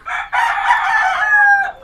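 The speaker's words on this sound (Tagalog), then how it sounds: "Ang dami naming manok dito." Rooster at a gamefarm giving a loud, close crow with clucking around it, a single drawn-out call lasting under two seconds with no speech over it.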